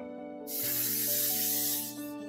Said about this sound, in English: Now I'm going to spray my baking dish.